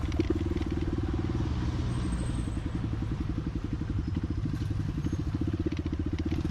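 A Honda CRF150L dirt bike engine runs steadily with a low, chugging putter throughout, close by, with road noise and no talking.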